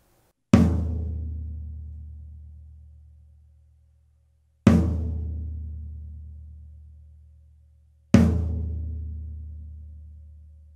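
Three single strikes on a snare drum with a Remo Starfire head and no snare weight, each a sharp close hit followed by a long, steadily fading ring before the next.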